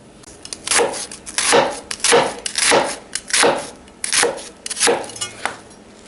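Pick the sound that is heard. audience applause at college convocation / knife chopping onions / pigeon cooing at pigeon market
knife chopping onions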